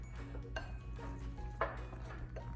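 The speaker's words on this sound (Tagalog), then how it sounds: "Haluin lang hanggang makuha natin yung gusto nating consistency" Chicken salad mixture is stirred in a bowl, a spoon clinking and scraping against its sides in a few irregular knocks over a low, steady background hum, with no talking.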